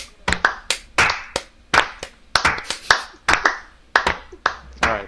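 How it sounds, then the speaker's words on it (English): Several people deliver a slow clap during a wrestling talk show, hands meeting in loud, close, steady claps roughly twice a second with slight unevenness between clappers and no talk over them. "Slow clap, guys."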